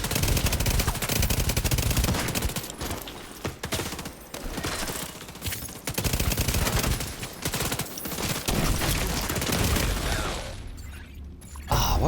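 Dense automatic gunfire from The Division 2 shooter game rattles on in loud, nearly continuous bursts, with short gaps and a brief lull near the end.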